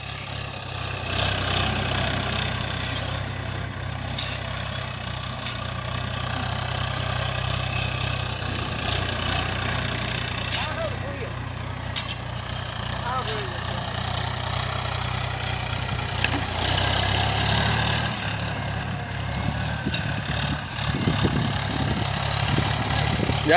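A tractor-driven thresher runs steadily on a farm in Gujarat, a continuous low mechanical drone with faint whirring and rattling layered above it, holding an even loudness throughout.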